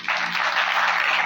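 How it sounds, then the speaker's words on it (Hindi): Sustained audience clapping at a religious motivational gathering, a bright, dense rush of hands beginning abruptly and holding steady. "तालियां होनी चाहिए"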